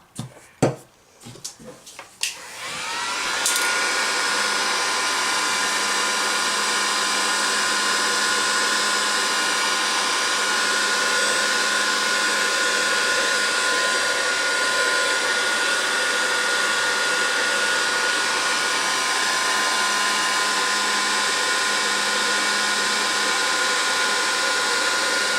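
After a few clicks and knocks of handling, a hair dryer switches on and blows steadily for over twenty seconds. It is drying a sheet of homemade rust paper, and no one speaks.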